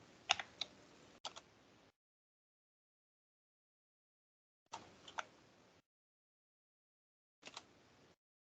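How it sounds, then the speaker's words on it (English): Typing on a computer keyboard comes in three separate bursts of quick clicking keystrokes, close and fairly quiet, with silent gaps between them and no talking. "and my typing is not the fastest of typing."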